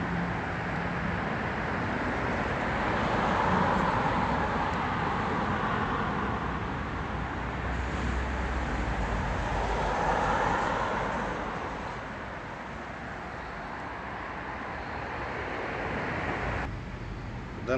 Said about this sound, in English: You can probably hear the noise from the traffic.